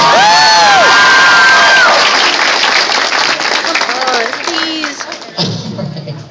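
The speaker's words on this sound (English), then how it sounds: "Give them a round of applause." A convention crowd claps and cheers loudly with high whoops and shouts, the applause gradually thinning out and fading toward the end.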